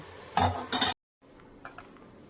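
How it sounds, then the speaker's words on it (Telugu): Metal lid clattering down onto a pan of ivy gourd fry, a short burst of clanks and scrapes followed by an abrupt silence, then faint light clinks, no voices. "ఇది మగ్గిపోవడానికి మూత అయితే వేసేస్తుంది"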